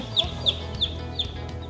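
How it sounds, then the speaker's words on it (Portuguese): A chick peeps in short, high, regular chirps, about four evenly spaced calls, close and fairly faint over a low background hum. "Apresenta o pintinho ao pessoal."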